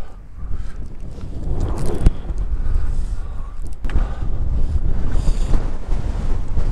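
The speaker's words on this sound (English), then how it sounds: "the wind's getting stronger" Strong gusting wind buffets the microphone on an exposed mountain path in the Brecon Beacons, a loud continuous roar with surges and no voices.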